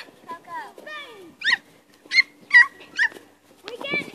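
A puppy yips, whimpers and barks in short, close bursts, with whining cries between the sharper barks.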